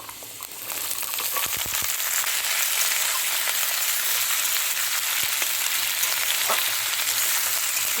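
Potatoes and spring onions frying in hot oil over a strong gas flame, giving a loud, dense, continuous sizzle close up, with a few stirring scrapes early on.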